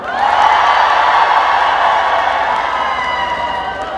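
Sustained clapping and cheering from a large crowd at an outdoor autumn open-air concert, loud and continuous, swelling at the start and then easing gradually while staying strong throughout.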